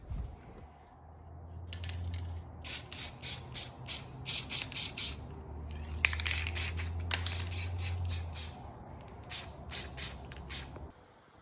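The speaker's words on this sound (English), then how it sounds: "Don't forget to spritz it with a little paint so that weld don't rust." Spray paint hisses onto a fresh weld on a homemade bed dolly in a series of short, close bursts. The bursts come in rapid pulses with brief gaps between them, over a low background drone.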